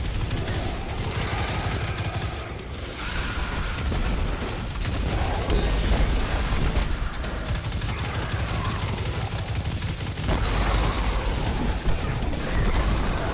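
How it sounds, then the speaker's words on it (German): Loud, continuous combat noise in Destiny 2 with rapid gunfire bursts and repeated booming explosions, dense and chaotic throughout, with occasional voices beneath. "Explosionen über Explosionen hier."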